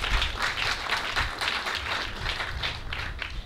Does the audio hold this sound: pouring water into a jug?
no